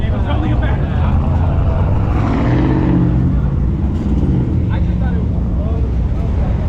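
Cars roll up on a Texas street at night with a 900 hp Shelby GT350 nearby, and a steady engine rumble fills the whole stretch. People talk over it.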